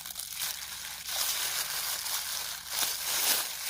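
Rubber gloves being pulled on and handled at close range: crinkly, rustling rubbing in uneven bursts, with no voice.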